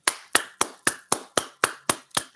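Hands clap nine times in an even, moderately quick rhythm, each clap sharp and close with a short decay, no voices over them.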